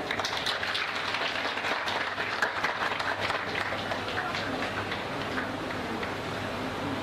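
Lively audience clapping at a Mother's Day stage event, a steady patter of many hands that carries on throughout at moderate volume.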